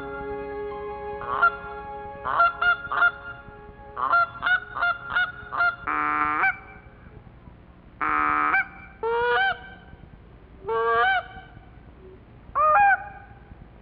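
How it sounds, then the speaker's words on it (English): Canada geese returning to the Chesapeake Bay honk in a series of loud, repeated calls, short bursts and longer nasal blasts spaced across the stretch, close and clear with no talk. "For everyone, the return of the geese is an exciting time"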